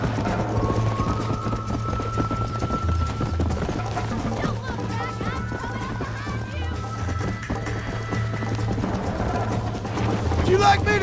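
Steady rhythmic hoofbeats of a galloping horse in Red Dead Redemption, loud and continuous, with game voices speaking over the ride.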